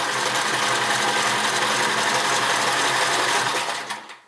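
A Sears Kenmore 158 series sewing machine runs steadily, a dense continuous mechanical whir of stitching that holds loud and close, then tapers off at the end.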